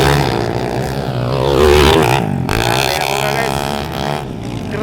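An underbone motorcycle engine revs hard during a race heat, a loud buzzing drone that swells and falls as it passes close, with a crowd and commentary mixed in.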